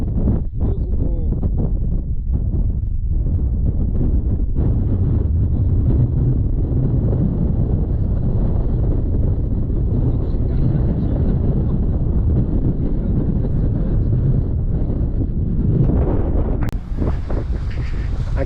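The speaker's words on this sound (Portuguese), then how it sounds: "O vento está muito forte, está até atrapalhando, mas vejam aí." Strong wind at Fortaleza Canyon in southern Brazil blasts across the microphone in loud continuous gusts, a heavy low rumble that eases slightly near the end.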